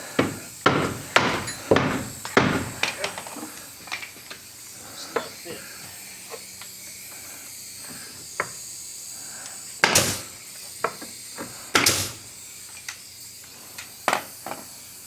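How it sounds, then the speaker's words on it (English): Tongue-and-groove rainbow poplar nickel gap boards being hammered with a tapping block in a wood shop room: clusters of sharp, close knocks in quick bursts, pausing, then resuming with a few louder blows. "he can hammer on this side and not beat up the tongue"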